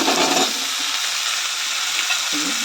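Finely chopped drumstick leaves fry in a hot pan, giving a loud, continuous sizzle with soft scraping from stirring throughout.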